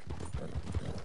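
Horse hooves clip-clop in Red Dead Online, a quick run of soft, rhythmic thuds that stay fairly faint and close, with no talk over them.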